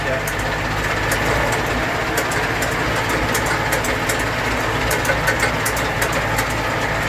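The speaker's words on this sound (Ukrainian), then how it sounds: "Ось так працює. Сьогодні неділя, але оприскування треба проводити." A KATA KE 504 tractor with a sprayer attached runs at a steady idle. Its engine drone is loud and continuous throughout, with a faint rattling texture and no change in pace.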